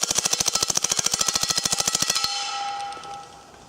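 An HK-style MP5 submachine gun fires a loud, fast full-automatic burst of about two seconds, evenly spaced rapid shots ending abruptly, followed by a fading ring and near silence.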